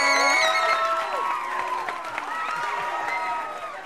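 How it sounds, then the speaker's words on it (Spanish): Studio audience cheering, whooping and applauding on a Spanish-language variety show, a loud dense crowd roar with shouts and whistles layered over steady clapping from start to finish. "Un aplauso para Andrea Desastre Fo"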